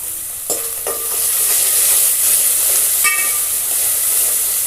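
Onions frying in hot oil for an egg curry, producing a loud, continuous, close-up hiss and crackle with a few faint clinks at the start, and no voices.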